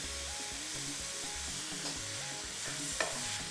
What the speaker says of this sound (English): Okay, so I'll add the goat's meat now.